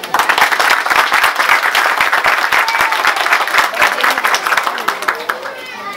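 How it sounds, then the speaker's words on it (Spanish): A crowd claps loudly at the inauguration of a community dairy in La Luz, Pajacuarán, a dense outdoor burst of many hands that gradually thins and fades as voices emerge. "Gracias por ese aplauso cálido de aquí de la gente de la luz y de sus alrededores"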